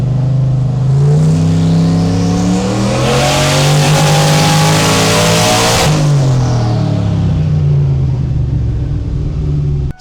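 A 765-horsepower Mustang tuned on pump gas with Holley EFI revs loudly through a long, steady tuning pull, its engine note climbing in pitch for several seconds and then falling away, with no voices over it.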